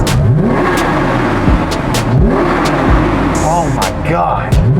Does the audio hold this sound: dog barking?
no